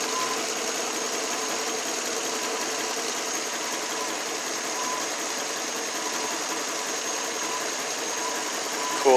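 A 1992 Lexus LS400 engine runs steadily at a loud, constant drone with a smooth hum and no clear change in pitch, with no talking.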